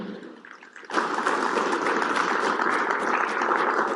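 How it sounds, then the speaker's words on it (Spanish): A crowd bursts into applause after a quiet moment, steady dense clapping that fills the room and continues to the end. "Un aplauso."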